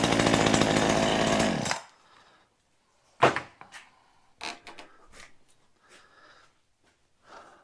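A Poulan Pro chainsaw roars loudly at high revs, then cuts out abruptly when the chain brake is tested, followed by scattered clicks, clatter and handling noises as the saw settles.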